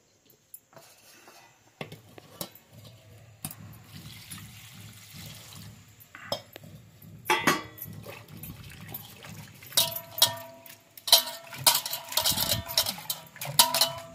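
Water splashes and trickles in a sink as bitter gourd is rinsed, starting quiet and growing busier, mixed with wet handling and occasional clinks of a vessel.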